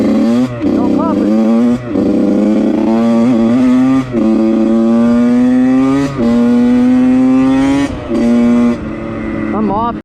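A Yamaha YZ85 dirt bike screams close by, its engine revving hard through repeated rising pitch sweeps, with brief drops between shifts over about ten seconds.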